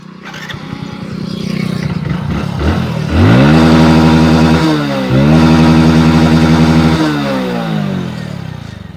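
A motorbike engine sputters to life after a few cranking attempts, then settles into a loud, steady running note that rises and dips with throttle, close by, with no talk over it.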